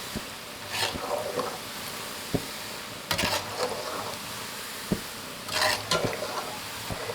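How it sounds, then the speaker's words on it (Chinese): Meatballs deep-fry in hot oil over medium heat with a steady bubbling sizzle, while a utensil stirs and turns them in bursts, with occasional sharp knocks against the pot. "全程保持中火慢炸，防止丸子表面炸糊，内里不熟。"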